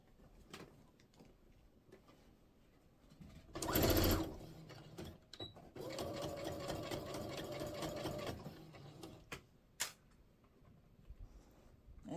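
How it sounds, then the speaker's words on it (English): A sewing machine stitches a quilted tote bag seam in steady bursts, one short loud run followed by a longer even whir, with quiet pauses between. "Now we're going to sew probably 1/4 of an inch all the way around."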